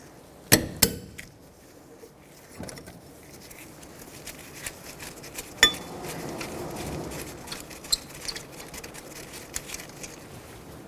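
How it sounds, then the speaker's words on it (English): Metallic clinks and sharp knocks of a socket wrench working loose the caliper slider pins on a 2006-12 Toyota RAV4 brake, a few scattered impacts at close range in a quiet garage. "We're going to break the caliper slider pins free"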